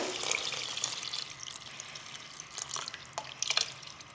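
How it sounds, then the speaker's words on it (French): Water pours into a cooking pot, about half a litre for simmering sardine meatballs in tomato sauce, a close, steady splashing trickle with brief drips and gurgles. "je vais ajouter un demi-litre d'eau et je vais laisser bouillir à feu moyen"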